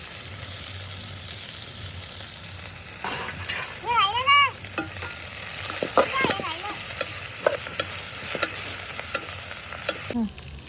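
Spices crackle and sizzle steadily in hot oil for a home-cooked biryani, a close, continuous frying hiss with scattered pops and stirring, plus a few brief chirpy whistles in the background.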